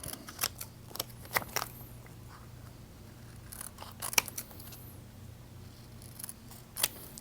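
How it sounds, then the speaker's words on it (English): Scissors trim a small piece of heat transfer vinyl, giving a few faint, sharp snips at irregular intervals over a quiet room hum. "Trim it up."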